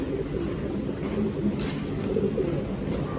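High-flying Madrasi pigeons with pilanka eyes, an old Andhra bloodline, coo softly and steadily over a dense background hum, their low calls blending into a continuous murmur.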